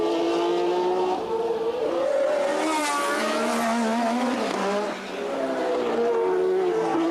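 1981 Formula One cars at the US West Grand Prix, including Alan Jones's Williams, screaming past at full throttle with engine pitch sweeping up and down through gear changes, loud and continuous throughout.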